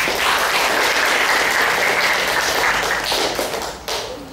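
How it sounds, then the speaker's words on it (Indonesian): A group of students at a junior high school draws a burst of loud, dense applause from a classroom audience. The clapping runs steadily, then thins out and fades near the end. "Kasih aplaus untuk kelompok 4."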